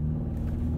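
A 2022 BMW 230i Coupe in Sport Plus holds a low, steady engine rumble at a standstill before a launch start, a deep drone close by with no talk.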